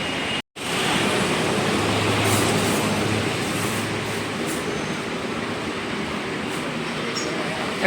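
A metro train at Chhatrapati Square station in Nagpur: a dense, steady rumbling roar of rail noise that fills the whole clip after a brief gap at the start, with no clear talk.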